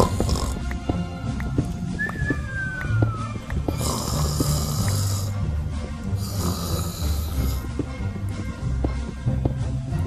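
A man playing Minecraft imitates snoring with his voice, rough rasping breaths repeated over several seconds, loud and close, mixed with game sounds and faint clicks in the background.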